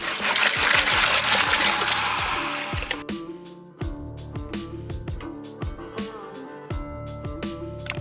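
A gold pan swirling water and gravelly material while prospecting at a New Mexico culvert, starting with a loud close rush and splash, then settling into gentle sloshing with gritty clinks of stones.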